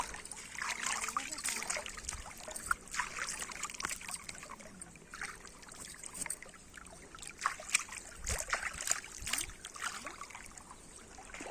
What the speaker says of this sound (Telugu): ఇక నీళ్ళు పోస్తాండి ఫ్రెండ్స్, పంపు